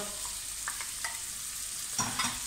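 Leftover roast lamb and its pan juices hitting a hot frying pan for a schwarma hash, a steady crackling sizzle with occasional stirring clinks and a louder hiss burst as more goes in near the end.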